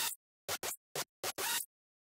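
Raw hardstyle screech synth loop from Serum with no mixer processing: six loud, harsh, bright stabs in a choppy rhythm, the last held longest, then silence.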